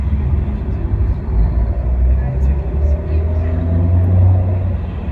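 Low engine rumble of a driverless car pulling itself into a parking space, a steady nearby hum with a slight swell, heard beneath excited talk from onlookers.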